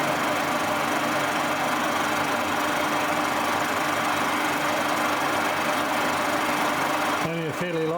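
A boring machine takes a fairly light cut, running with a steady, loud mechanical drone and rhythmic knocking throughout, ending with a brief change in pitch near the close.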